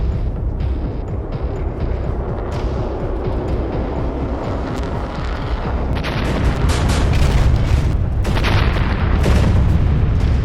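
Bombs striking an air base headquarters during an F-5 Tiger raid on Kirkuk: a continuous loud, deep rumbling roar with heavy booming that swells toward the end, with no talk.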